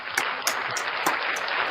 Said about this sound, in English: Ladies and gentlemen, round of applause for Welsh News Network.